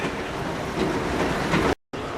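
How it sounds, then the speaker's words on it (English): Airport tram at Newark Airport running on a windy day, a steady loud rolling rumble with rail clatter that cuts off abruptly near the end, then briefly resumes. "Oh, the tram is running."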